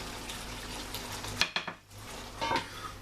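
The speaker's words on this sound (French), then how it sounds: "De temps en temps, on remue le tout avec notre cuillère en bois, comme ceci" A wooden spoon stirs mustard chicken sauce in a pan, giving a few soft scraping clinks and wet sloshes close by, set against a low steady kitchen hum.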